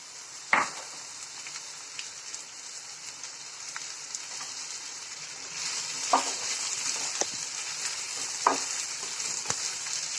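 Chopped raw mango sizzles and fries in a pan with mustard seeds and crushed garlic for an instant mango pickle, a steady crackling hiss broken by occasional louder pops and stirring scrapes.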